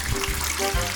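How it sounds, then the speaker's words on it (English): A water tap runs steadily for handwashing, a close, loud, continuous gush of flowing water with no voices. "Turn on the water."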